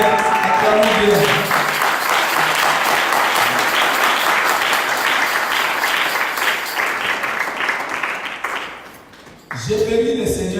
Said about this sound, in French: Et nous acclamons très fort pour la gloire de Dieu